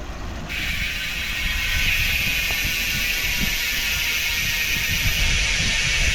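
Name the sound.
Ragusa XM800 MTB rear hub freewheel clicking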